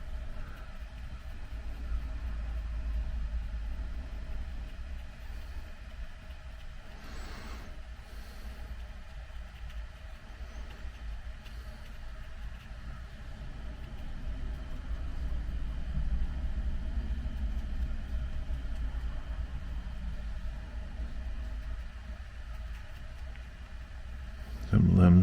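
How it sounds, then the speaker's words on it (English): Steady low traffic rumble from morning cars on a nearby street, a continuous distant drone that slowly swells and ebbs with no voices present. "I can hear the cars starting to get more plentiful on the street."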